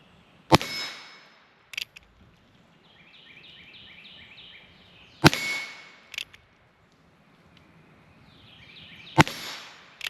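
A Heritage Rough Rider Tactical Cowboy Edition revolver with a 6.5-inch barrel fired outdoors. Three sharp, loud shots come about four seconds apart, with faint birdsong and quiet handling sounds between them.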